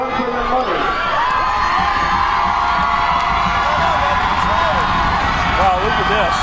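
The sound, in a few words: high school football crowd cheering, crowd battle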